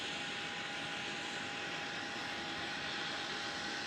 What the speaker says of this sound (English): He is pulling out now, so he'll be burning down the runway shortly.